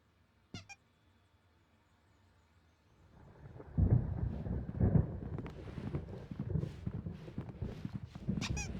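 Thunder rumbles in a stormy night scene in the video game Alan Wake, a sharp crack early on giving way to a long, loud, rolling roar that swells and churns with gusty wind until the end.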